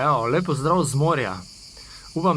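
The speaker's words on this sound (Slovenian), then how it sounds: "da se slišijo črički v ozadju" Crickets keep up a thin, steady chirr in the background by the sea while someone talks over them in the foreground.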